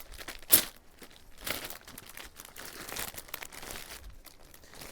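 Packaging crinkles and tears as a silk saree is unwrapped in a Kolkata wholesale market, with soft plastic rustling, a sharper crackle near the start and intermittent faint crumpling throughout.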